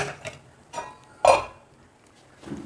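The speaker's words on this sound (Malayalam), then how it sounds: "ഇനി നമുക്കതൊന്ന് മൂടി വെക്കാം." A lid is set down on a pot of fish curry, making a single clear clink amid faint, scattered kitchen clatter.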